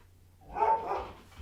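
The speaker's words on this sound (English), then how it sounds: "Apologies for my dog." A dog barks once indoors during a live Man City vs Burnley football watchalong, a single moderately loud bark-whine lasting about half a second with no talk over it.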